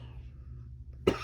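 A person gives a single sharp cough near the end, close and fairly loud, after a stretch of quiet room hum.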